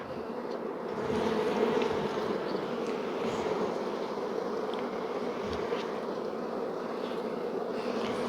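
A honey bee colony in an opened hive hums with a dense, continuous buzz, close and steady, with individual bees droning past now and then.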